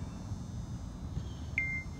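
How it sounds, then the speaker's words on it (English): An iOS ghost detector app gives one short, faint electronic beep late in the stretch, with a quiet room background and no talk. "Oh, it beeped."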